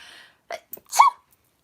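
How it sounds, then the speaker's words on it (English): A single close sneeze, preceded by a couple of quick sharp intakes of breath, then quiet. "Sorry, I have to sneeze."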